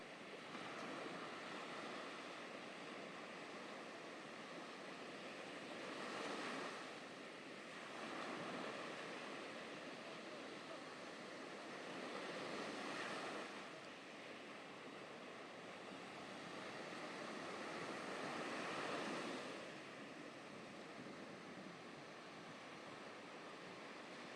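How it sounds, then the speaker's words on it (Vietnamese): Strong wind and big waves on Da Nang beach make a constant washing roar, with surges swelling and fading every few seconds as breakers roll in, heard at a distance. "Gió thổi mạnh, sóng đánh lớn"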